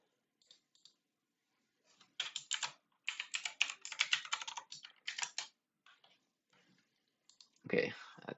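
Someone types on a computer keyboard to log in, with quiet close-up bursts of rapid key clicks separated by short silences and a louder clack near the end; no talk is heard.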